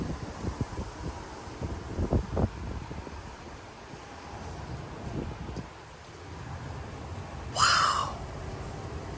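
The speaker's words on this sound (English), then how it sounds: "here comes a big gust" Strong gust of wind sweeping through oak trees in the outer bands of a severe thunderstorm in Frisco, Texas: a steady, rushing roar with low buffeting rumbles, and a brief high chirp near the end.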